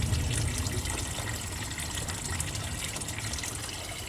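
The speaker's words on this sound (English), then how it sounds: "let's rinse this out a little bit and put them back" Pond filter bio balls from a small backyard koi and goldfish pond are rinsed under a continuous, close rush of running water that splashes and trickles steadily throughout.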